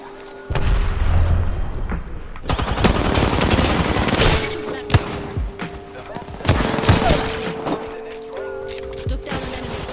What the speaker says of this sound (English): Grenade, heads up.